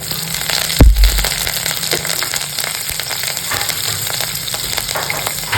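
Cumin seeds dropped into hot oil, a heavy thud at the start followed by a loud, close, continuous sizzle with fine crackling that stays steady to the end.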